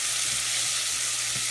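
Shallots and apple frying in a pan make a loud, steady sizzle close up, with a few soft stirring taps underneath.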